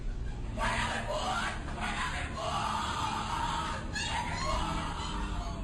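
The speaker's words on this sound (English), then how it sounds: "What you're hearing is the first recording ever made of the Skull and Bones initiation ceremony." Several voices shout and call out in a boomy, echoing room over a constant rumble, loud and overlapping, at a Skull and Bones secret society initiation ceremony.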